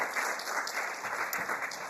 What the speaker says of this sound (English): Yes, you deserve a round of applause.